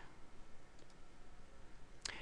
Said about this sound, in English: if we click OK